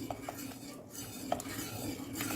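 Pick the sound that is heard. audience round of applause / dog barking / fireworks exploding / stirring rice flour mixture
stirring rice flour mixture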